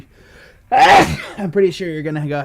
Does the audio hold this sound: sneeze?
yes